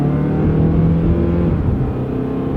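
Engine of a high-mileage car with 153,000 miles revving steadily under throttle, a loud continuous drone with a low rumbling tone held throughout, close and without speech.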